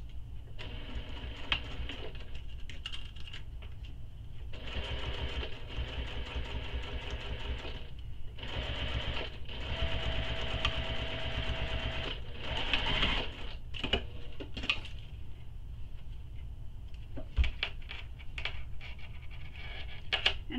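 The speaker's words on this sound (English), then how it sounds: "And we're top stitching it to make it flat" A sewing machine top-stitches a bag with a Teflon presser foot, whirring in several long runs separated by brief stops, close up with no talk.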